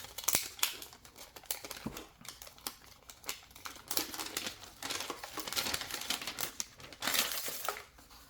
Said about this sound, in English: And under that is this is the stand. I'm going to unwrap this.